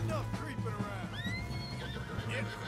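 A horse in the video game Red Dead Redemption 2 neighs with a rising and falling whinny over steady game ambience, with hoof clip-clops faint under it.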